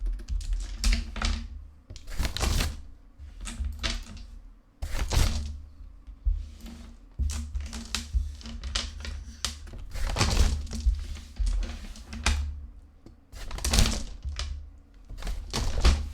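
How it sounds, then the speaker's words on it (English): Mahjong tiles are shuffled on a table in a three-player Washizu game, giving a steady run of dense clacks and rattles in repeated bursts, fairly close and with no talk over them. "shuffle up the tile slightly further away from the microphone this time"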